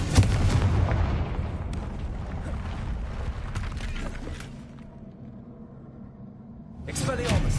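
Confringo fire spell explosion in the Hogwarts Legacy video game, a loud booming blast with a rumbling tail that fades, then another burst at the end, with a character speaking over it.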